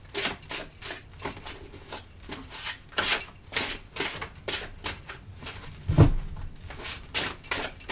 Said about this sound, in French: Je vais remélanger un petit peu mon jeu.